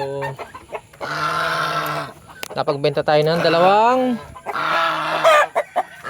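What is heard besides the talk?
chickens clucking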